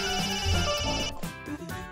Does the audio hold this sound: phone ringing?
yes